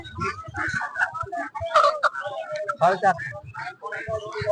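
Native country chickens cluck and call at a rural village market, close by and intermittent, mixed with people talking around them.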